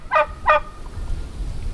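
A turkey in a chicken yard with a run and enclosure gives two short, sharp, honking gobble calls close by, followed by quiet outdoor background noise.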